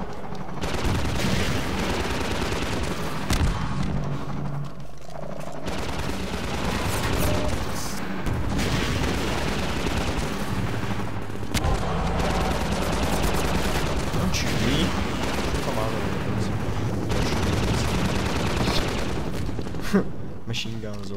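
Submachine gun fire in the video game Half-Life 2 rattles in sustained bursts through a loud, dense mix of explosions and game noise, with no gaps of quiet.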